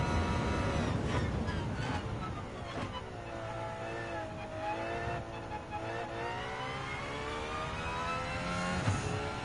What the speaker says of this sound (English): Just love the sound of the engine is going roaring up and shouting out like a scream of a Valkyrie